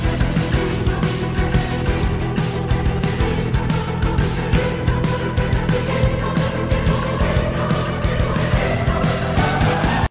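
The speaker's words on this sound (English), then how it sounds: "There is a boss theme where the choir keeps repeating a sentence or an ostinato" A Xenoblade Chronicles 3 boss battle theme with a choir repeating a phrase as an ostinato, heard as loud, dense orchestral music driven by steady, pounding percussion hits throughout, with no talking.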